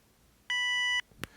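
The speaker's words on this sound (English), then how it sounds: "and you'll hear an audible beep." A single clean electronic beep from electronic hearing protection earbuds, steady and high-pitched for about half a second, followed by a faint click in a quiet setting.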